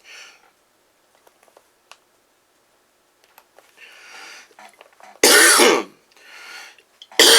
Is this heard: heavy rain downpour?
no